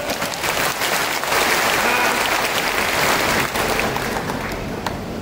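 An audience at a Jatav community conference applauds, with many hands clapping in a dense, steady burst that swells and stays loud for several seconds before easing slightly, with no one talking over it.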